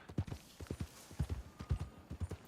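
Horse hooves clip-clop at a steady trotting rhythm in Red Dead Redemption 2, paired hoof strikes landing close and clear with no voices over them.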